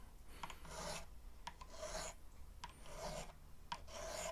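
Repeated rasping strokes of a file grinding on electric guitar frets, about four back-and-forth passes in a steady rhythm, close and fairly quiet.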